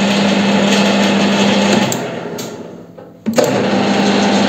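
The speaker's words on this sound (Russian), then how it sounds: "И теперь вот так вот работает поперечная подача." WEISAN CJM360 screw-cutting lathe running under power cross feed, a loud steady high-pitched motor whine that fades out midway, pauses briefly, then starts again sharply.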